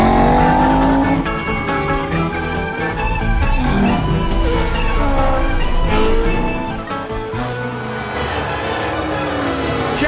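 Toy race cars on a track with a 360-degree loop: a steady, loud rush of car sounds and tire squeals with racing-style engine revving, continuous throughout, mixed with music and lively effects, no clear speech.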